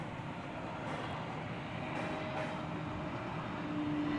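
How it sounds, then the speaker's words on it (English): A Frontier airliner from Phoenix comes in to land at DFW Airport as a steady, distant broadband roar that builds slightly over a few seconds, with no talking. "Swing around here to see the flight from Phoenix coming in, the Frontier flight from Phoenix."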